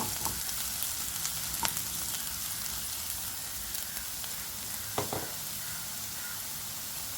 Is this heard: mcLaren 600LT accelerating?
no